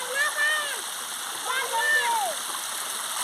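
A waterfall near the Gurabasa Shiva temple in Sundargarh roars as a steady broadband hiss, while a voice talks over it in two short bursts.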